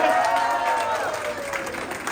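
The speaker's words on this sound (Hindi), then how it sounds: "जोरदार तालियां हो जाए" Audience at an anniversary celebration applauding steadily for about two seconds, a dense, even wash of clapping with a few raised voices mixed in.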